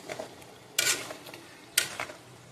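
Spices and tomato paste sizzle softly in a pan, with two sharp scraping stirs cutting through the quiet frying.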